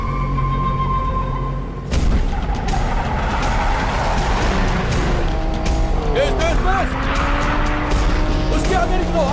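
Cars race through a high-speed chase in an action film, engines roaring loudly and tires squealing in rising, swooping screeches, with urgent shouted voices over the din.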